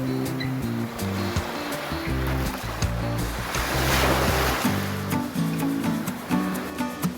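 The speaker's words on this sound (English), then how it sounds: "so that you can hear the natural sounds of the ocean" Ocean waves wash steadily onto a beach in the Philippines, a continuous loud surf roar with rolling swells that rise and fall, heard alone without any voices.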